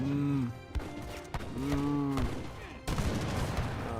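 Falconet artillery volleys in an Age of Empires 3 match, a few booming cannon shots with a dense burst of gunfire near the end, heard over synthesized game tones and a caster's lively commentary.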